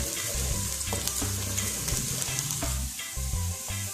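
Fenugreek seeds and onion fry in hot oil, giving a loud, continuous close-up sizzle and crackle with occasional stirring scrapes throughout; no one speaks.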